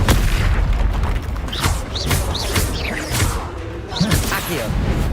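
Repeated booming Confringo blast spells fire in Hogwarts Legacy, a series of whooshing magical bursts and thumping impacts arriving roughly every second, loud and close, mixed with other spell effects.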